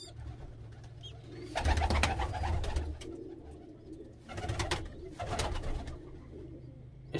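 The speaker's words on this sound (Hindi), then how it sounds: "बाकी जो बेबी पिजन आपको ऊपर नज़र आ रही है" Baby pigeons cooing and making throaty, rumbling calls in bursts while being hand-fed, close and moderately loud, with quieter pauses in between.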